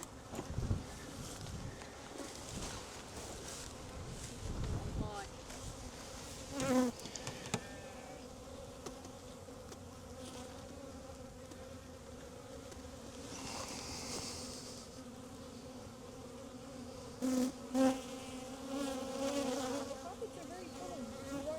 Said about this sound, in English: There should just be some bees flying in and out.